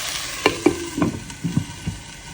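Slit green chillies and curry leaves sauté in hot oil in a pan, a steady frying hiss broken by several light spatula taps and stirs, close by, with no voices.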